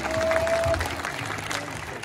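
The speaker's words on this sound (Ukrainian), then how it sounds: "За оплески." Audience applause at a send-off ceremony for a youth wrestling team, a steady patter of clapping that carries over faint background sounds and a brief whistle-like tone near the start.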